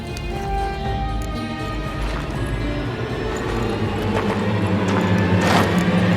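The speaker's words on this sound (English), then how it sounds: "Horse." Horse hooves clip-clopping in The Witcher 3, a steady run of hoofbeats at close range over a constant game backdrop with occasional other noises.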